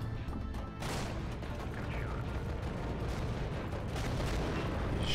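Tank cannon shots and explosions in the video game Infinite Tanks, several booming blasts and crashes over a continuous rumbling battle background, loud and dense throughout.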